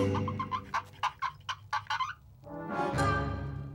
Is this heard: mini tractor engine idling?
no